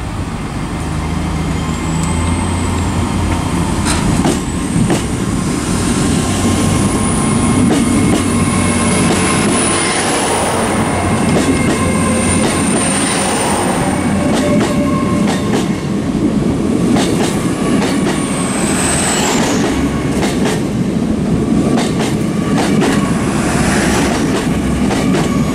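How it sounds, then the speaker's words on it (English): An HST passenger train arriving at Plymouth station, loud and near, with a rumbling engine, clattering wheels over rail joints and high squealing brakes as it slows along the platform, continuous for the whole stretch. "Didn't realise the time when I saw this one and saw the HST arrive"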